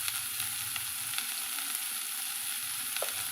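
Bitter gourd fries in ghee in a pan with a steady, dense hiss of sizzling, broken by faint scrapes as it is stirred and a brief clink near the end. No one speaks.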